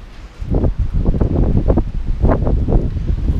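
Strong wind buffets the microphone outdoors beside parked police cars, a loud continuous rushing with gusty surges and rustle and no speech.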